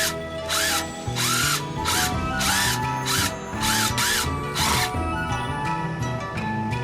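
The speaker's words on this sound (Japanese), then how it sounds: "インパクトドライバーでアクリルに穴開け" An impact driver bores a hole in acrylic for a display base: a loud, close grinding whine that comes in short bursts, with brief pauses and rattling impacts between the bursts.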